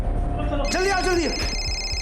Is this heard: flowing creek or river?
no